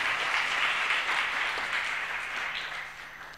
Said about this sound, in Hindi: वाह वाह वाह, ताली बजा दो।